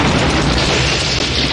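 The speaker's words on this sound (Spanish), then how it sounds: "¿Eso era una bomba? Una bomba o un petardo de los gordos." A single heavy boom of a bomb or large firecracker in an action-film trailer, filling the clip as one loud, continuous low rumble with no voices.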